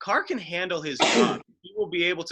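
A single sharp sneeze bursts out in the middle of a men's sports draft discussion. It is brief and close, with conversation continuing on both sides.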